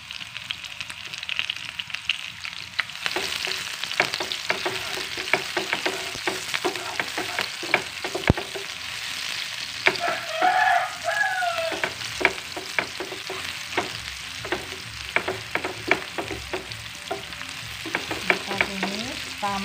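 Shallots with bird's eye chilies and red chilies stir-fry in hot oil for a fried-egg stir-fry, a steady close sizzle broken by frequent spatula scrapes and taps against the pan throughout, with no talking.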